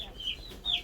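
Chickens raised for meat give a couple of short, close clucks inside a coop.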